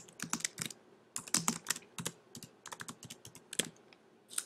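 Typing a citation on a computer keyboard in MS Word, uneven bursts of crisp close key clicks with short pauses between words, no speech.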